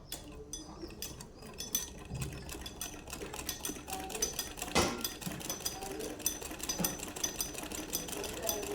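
A domestic sewing machine runs steadily, stitching the hem of a shalwar leg from the corner back along the edge, with a fast rhythmic mechanical whir and ticking that stays close and fairly quiet.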